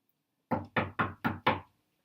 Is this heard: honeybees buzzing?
no